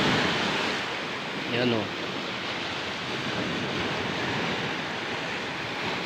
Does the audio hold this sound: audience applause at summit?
no